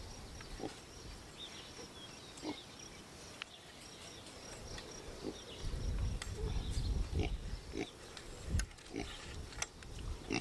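Pigs grunting and oinking by a garden fence, short snorts and grunts scattered among rustling and thumps, with a few faint bird chirps in the background.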